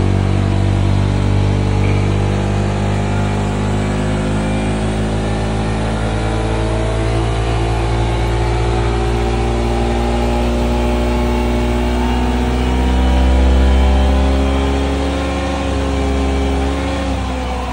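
A Yamaha XMAX V2 motor scooter with a modified pulley runs on a dyno, its engine roaring loud and steady with continuous revving that swells briefly near the end, and no talk over it.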